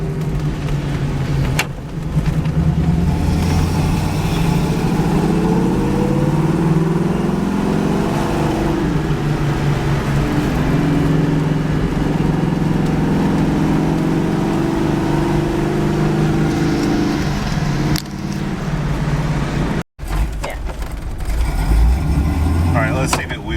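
A 1972 Pontiac Firebird fitted with traction bars runs loud and close during a wheel hop test, its engine droning and rising in pitch for a long stretch before a brief cut and a restart of the rumble.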